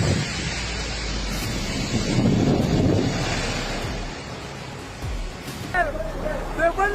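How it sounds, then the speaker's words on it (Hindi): Strong storm winds in Baracoa, Cuba roar as steady broadband noise throughout, with surf-like gusts and buffeting on the microphone, while a voice speaks briefly near the end. "क्यूबा में भीषण तूफान का कहर।"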